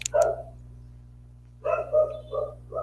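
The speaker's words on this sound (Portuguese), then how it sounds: "O cachorro tá enchendo o saco aqui, tá latindo." A dog barks indoors: one loud close bark, a pause over a steady low hum, then a quick run of several more barks.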